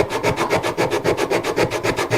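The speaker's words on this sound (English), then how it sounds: "I use a sanding block" Rhythmic rasping strokes of sanding wood with a sanding block, about eight back-and-forth passes per second, close and loud, no voices.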